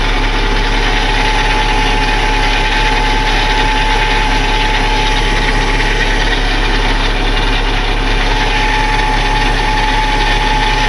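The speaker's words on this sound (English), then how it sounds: "Those winches are actually pretty fast, especially since we're at idle." Wrecker winches ratchet and grind steadily over the truck engine idling nearby, a continuous loud mechanical whir with no talking.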